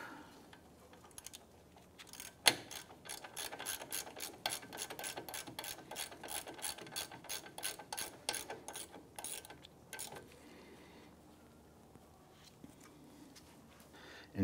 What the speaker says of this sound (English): Then I'm just going to throw a ratchet on there, snug that down.